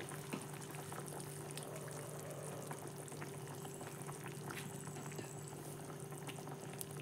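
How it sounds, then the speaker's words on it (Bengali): A pot of fish curry bubbles steadily at a rolling boil, a continuous close churning simmer with a faint hum beneath and no voices. "ঝোলটা ফুটে গিয়েছে"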